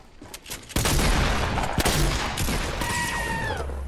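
Famas burst assault rifle gunfire in a shooter video game: a quiet start, then loud sharp rapid shots cracking in clusters, with a tonal ringing whine in the last second.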